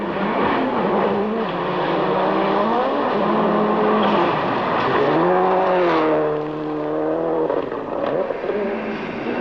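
A Subaru Impreza rally car driven by Ari Vatanen at the 1993 1000 Lakes Rally races flat out over a gravel stage. Its loud engine rises and falls steadily as it shifts through the gears, up close and continuous.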